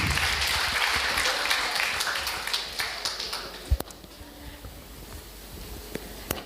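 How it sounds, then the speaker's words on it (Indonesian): Applause from a seminar audience on campus, dense clapping filling the room at first, then thinning into scattered claps and a few louder taps. "tepuk tangan buat kita semua."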